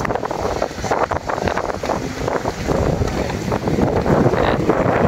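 Wind blowing hard across an open viewpoint near the Maquinit hot spring in Coron, Palawan, a continuous gusty rumble with flutter and buffeting on the microphone throughout.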